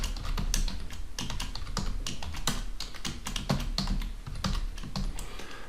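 Rapid typing on a computer keyboard while writing HTML code, a dense run of close, crisp key clicks with irregular rhythm and occasional heavier strokes, with no voice over it.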